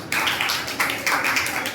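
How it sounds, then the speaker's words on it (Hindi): An audience applauds at a Jain diksha gathering honouring monks: a short stretch of dense, crackling clapping that swells in a few waves, fairly close and without any talk. "जोरदार ताली बजाएं।"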